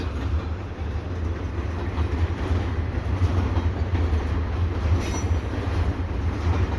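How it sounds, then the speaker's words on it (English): A CPKC freight train hauled by Kansas City Southern locomotives rolls past with a steady, heavy rumble and rhythmic wheel noise, with a faint squeal high up, sustained throughout with no talk. "it's cool to find those Southern Belles on the CP trains"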